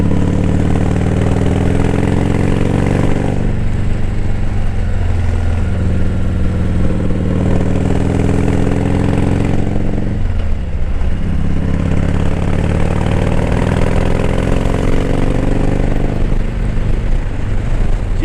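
A Harley-Davidson M8 motorcycle engine with a full Wisamic exhaust from the heads back, orange tuner and 468 cam, idles steadily and loudly up close, with a slight rev midway and no talking.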